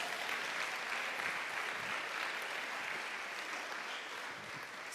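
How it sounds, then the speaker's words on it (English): Audience applause at a talk, steady and dense for the full five seconds, fairly quiet and heard from a distance, with no voices over it. "let's give him a round of applause"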